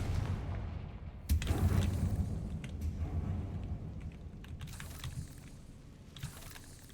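Confringo fire spell cast in Hogwarts Legacy, a sharp blast-like burst at about one second followed by rumbling, crackling impacts and a few smaller pops, fairly loud over a busy game background.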